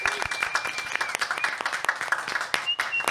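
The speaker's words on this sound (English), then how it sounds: "can we please, everybody here in the room, get a gigantic round of applause for Cory and Annalisa?" A room full of people gives a round of applause for two hosts, a lively patter of many hands clapping close and fairly loud, with a few whoops or voices rising through it.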